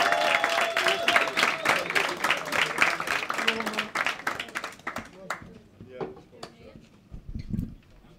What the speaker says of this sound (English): Clap, whoop, cheer, welcome to the stage, Chris Law